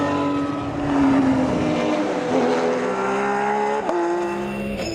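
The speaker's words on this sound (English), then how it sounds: "the vanguard of the Porsche GT3 Cup Challenge Canada took to the track" Porsche GT3 Cup Challenge Canada race cars running on track in poor weather, a loud, sustained engine whine rising in pitch as the cars pass close by, with a brief sharp shift near the end.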